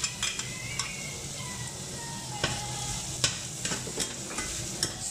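Dried prawns sizzle steadily in a hot pan with garlic, with scattered clinks and scrapes of a utensil stirring, moderately close and fairly quiet.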